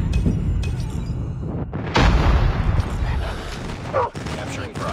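Explosions and gunfire in the mobile shooter Call of Duty Mobile, an airstrike delivering heavy booms amid rapid weapon fire and chaotic battle noise, while a voice talks over the action.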